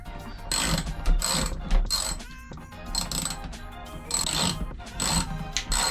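Bursts of rapid ratchet clicking while outboard engine parts are taken apart, several quick runs of pawl ticks with short pauses and metallic clanks between them, close by and with no speech.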